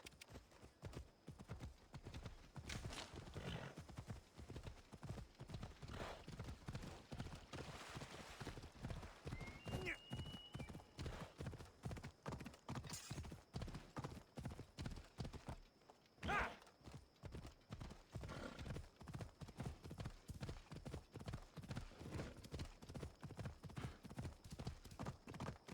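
A horse's hooves clip-clop at a steady trotting rhythm in the Assassin's Creed Odyssey video game, the even beats running nearly the whole length with one brief pause, and a voice talking over them at times.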